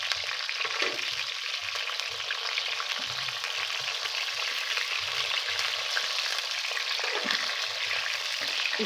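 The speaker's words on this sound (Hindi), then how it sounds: "अब इनको हम फ्राई होने देंगे अच्छे तरीके से।" Eggplant pieces frying in oil for a Borani Baingan and aloo baingan dish hiss loudly and evenly throughout, a dense near sizzle with faint intermittent knocks underneath.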